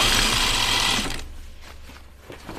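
A sewing machine stitches slacks in one close burst lasting about a second, then stops and leaves quiet room tone with faint handling.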